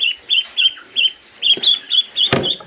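Ducks on a farm near a mobile henhouse give a rapid series of short, close quacking calls in a steady rhythm, with a brief rustle and a sharp knock near the end.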